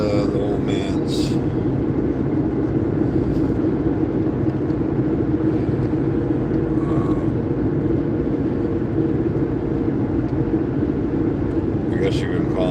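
A car being driven, with a steady, loud interior rumble of engine and road noise that runs unbroken for the whole stretch, and talking at times over it.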